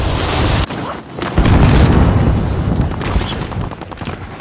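Call of Duty Modern Warfare Resurgence gunfire: loud close bursts of automatic shots and booms, a brief dip and then a dense sustained barrage while the player is pinned under fire.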